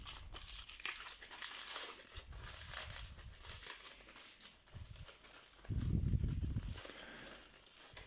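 Paper packaging around a small parcel crinkles and rustles as it is unwrapped, with irregular close crackling throughout and a few louder low thumps of handling, no voices.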